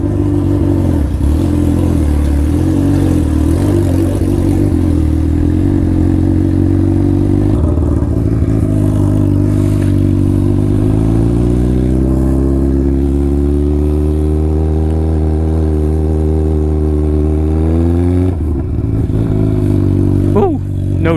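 A 2012 Suzuki GSX-R 1000 being rebuilt after a wreck starts up and rides off, its engine note loud and close. The note rises steadily in a long rev sweep near the middle, then drops back, with talk over the top throughout.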